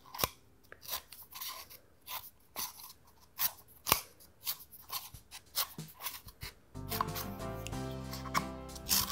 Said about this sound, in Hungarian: akkor fogjuk az ollót a kezünkbe, és ezt a részt a gurigáig bevagdossuk.